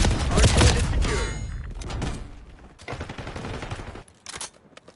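Gun in the Black Ops 6 beta video game fires a loud close burst of shots, followed by a few quieter, scattered volleys and thuds.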